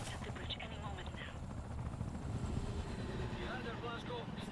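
A helicopter in Wolfenstein: The New Order thrums steadily with a dense low rotor rumble throughout, fairly loud and continuous, with game ambience layered on top.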